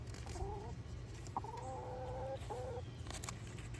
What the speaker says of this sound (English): being joined by a chicken.